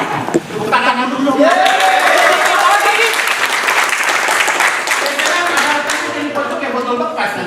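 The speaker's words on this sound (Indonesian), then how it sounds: "Tepuk tangan dulu." Hands clapping together in a warm-up at a child's birthday party, a busy patter of many claps running several seconds with an adult voice and children's chatter over it.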